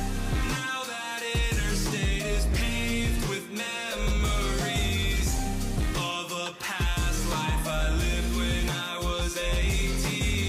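A song plays loud and steady, a full mix of vocals, instruments and a thumping low beat with brief drops in the bass.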